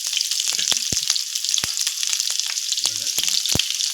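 Onions and mustard seeds sizzle and crackle in hot oil in a pan for a Karnataka-style sambar, with steady frying hiss punctuated by sharp pops and a few stirring clinks.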